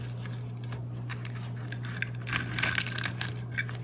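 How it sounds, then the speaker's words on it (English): A knife cuts through homemade flatbread dough for a shawarma-style wrap, making soft scraping and crinkly pressing sounds that grow louder toward the middle, over a steady low electrical hum, with no voices. "you can now go ahead and completely cut it through"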